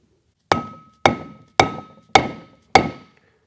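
Five evenly spaced, sharp metallic taps ring out close by as a socket is struck to drive a wheel seal into a front brake rotor hub, each knock decaying quickly before the next.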